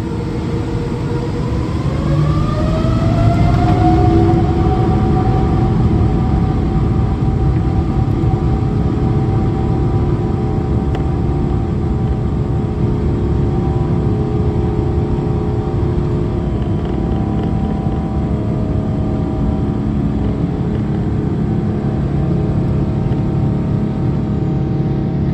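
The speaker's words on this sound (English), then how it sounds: "Watch as this Boeing 777 engine gets covered by condensation during a takeoff from" A Boeing 777 jet engine during takeoff from Amsterdam, with the engine covered in condensation: a loud, steady roar that rises in pitch over the first few seconds and then holds a continuous drone.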